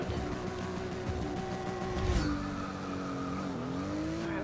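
A BMW M235i in the racing game Forza Motorsport 6 holds a steady engine drone with harmonic tones, its pitch dipping and rising slightly between gear-like shifts, loud and continuous throughout, with no talk.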